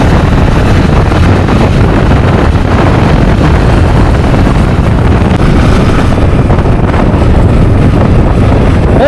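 Yamaha R15 sport motorcycle ridden fast, heavy steady wind roar buffeting the microphone with the engine buried underneath, loud and continuous throughout with no talk.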